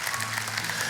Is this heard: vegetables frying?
no